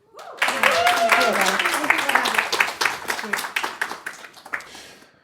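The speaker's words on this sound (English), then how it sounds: "Please, round of applause." An audience at Norrsken House in Stockholm claps to welcome a speaker on stage. A voice speaks briefly at the start, then dense clapping swells, thins into scattered claps and fades out.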